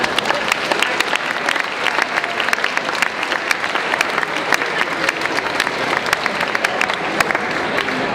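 Sustained applause from a banquet audience at the 4S Rotterdam 2008 banquet, dense, steady clapping from many hands throughout.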